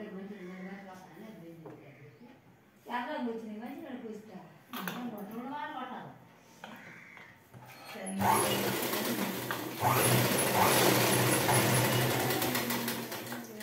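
Sewing machine stitching a blouse, with a dense, loud run of stitching in the second half, preceded by speech.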